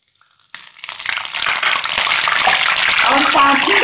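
Curry leaves dropped into hot browned tempering oil with star anise and cumin, bursting into a loud, sudden sizzle after a brief quiet moment, then a steady close crackling hiss that keeps building.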